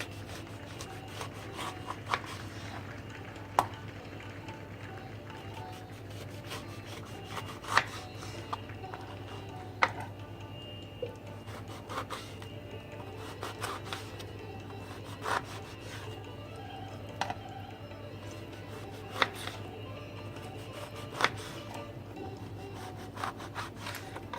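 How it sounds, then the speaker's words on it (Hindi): A knife cuts Malta citrus fruit into small pieces for pickle, giving faint, irregular taps and scrapes against a board at a quiet, steady working pace. "इसके छोटे छोटे पीस में काटेंगे।"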